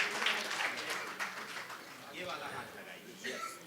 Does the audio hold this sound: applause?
yes